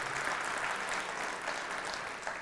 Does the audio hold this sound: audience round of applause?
yes